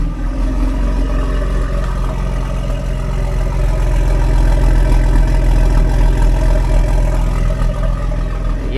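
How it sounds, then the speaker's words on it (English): A BMW M1 starts cold with its exhaust valves open in Sport Plus mode, giving a loud, deep, steady drone at high idle that swells slightly midway. It is close and continuous, with no one talking. "Give you guys a little cold start, open up the valves, Sport Plus"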